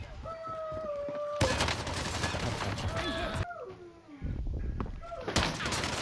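Rapid Tech-9 gunfire in a video game, bursts of close, loud shots crackling over game sounds and voices, with a sharp onset partway through and another burst near the end.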